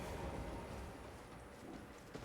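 Horse hooves clip-clop in Elden Ring, a faint, muffled run of hoofbeats against a low, dense game ambience, with no talking.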